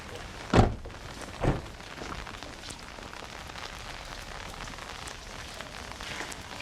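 Steady rain patters on the roof and windows of a parked car, a constant soft hiss throughout, with two dull thumps like a car door early on.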